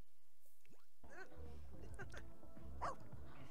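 A dog barks in The Sims 4 during gameplay, a few short yips and barks mixed with game sounds and background voices talking, moderately close but fairly quiet overall.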